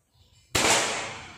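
A single sharp shot from a Predator Tactical air rifle during a 30-meter accuracy test: faint handling noise, then a loud abrupt crack that decays over about a second.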